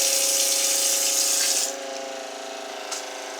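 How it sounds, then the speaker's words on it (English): A water pump filling the fresh-water system on a Jeanneau Sun Odyssey 36i sailboat, whirring with a steady buzzing hum over rushing water, the hiss dropping away partway through while the pump drone continues. "What's the noise? The pump."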